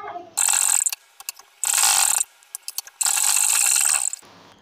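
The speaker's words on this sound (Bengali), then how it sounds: "এটার উপর দিয়ে একটা সেলাই করে নেব" Domestic sewing machine stitching along a fabric sleeve, running in three bursts of rapid, steady mechanical clatter, each lasting about a second with short pauses and small handling clicks between them, close and loud.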